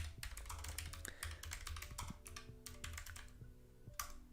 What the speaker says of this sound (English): I'm going to type this in the chat in all caps.